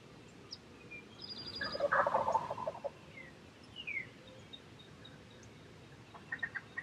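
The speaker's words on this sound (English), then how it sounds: "you'll hear the first hen do a fly down cackle as she lands in the field" Faint outdoor scene where a wild turkey hen lets out a quick burst of raspy fly-down cackling notes as she lands in a field, with scattered bird chirps before and after.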